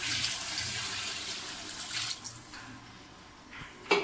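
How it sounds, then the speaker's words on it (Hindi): A jug of water poured into a pot of spicy chicken biryani: a steady splashing gush for about two seconds that tapers to a thin trickle, then a short sharp clank at the end. "अब हम इसके बाद दोबारा से एक जग पानी डालेंगे।"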